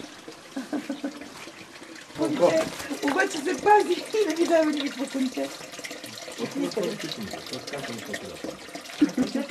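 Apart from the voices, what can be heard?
water of a healing spring trickling over stones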